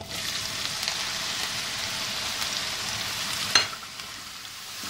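Chopped onion frying in butter in a pan, a steady bright sizzle that holds constant throughout, with one brief louder clatter partway through and no talking.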